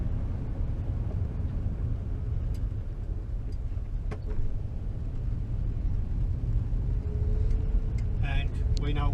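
A 1962 VW T2 camper bus engine idles steadily throughout, a low continuous rumble under faint voices.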